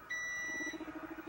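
Electronic beeps sound close and clear: a steady high tone at first, then a quick run of short, evenly spaced pulses.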